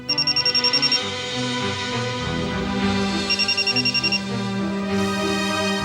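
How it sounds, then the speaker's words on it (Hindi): Telephone ringing in an office scene, two bursts of rapid electronic trilling pulses, one at the start and one midway, over a steady background music bed with no talk. "वीरेंद्र सर, फोरेंसिक लैब से फोन है, फौरन बुलाया ह"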